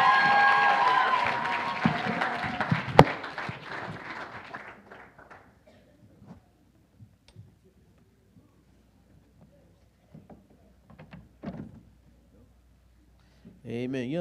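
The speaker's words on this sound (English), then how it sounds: "Give a round of applause for everybody today." Audience applause at a church youth rally, fairly loud at first and fading over about four seconds into near silence with sparse faint sounds, before a voice starts at the very end.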